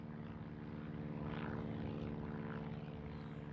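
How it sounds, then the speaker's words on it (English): A banner-towing propeller plane passes over a city, its steady engine drone and airscrew hum sustained and somewhat distant, with no voices. "So many people see the plane"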